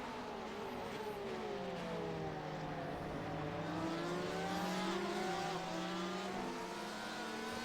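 Ferrari sports car in an IMSA sim racing game at Spa-Francorchamps, its engine note rising and falling through gear changes as it accelerates, loud and continuous, with faint tire noise and no speech.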